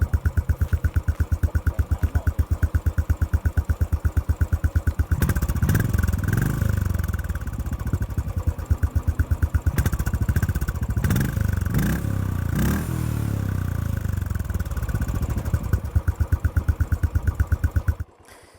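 Royal Enfield Classic 500 single-cylinder engine idling through a long exhaust, a steady close thumping beat throughout with brief blips of revving in the middle, then cutting off abruptly at the end.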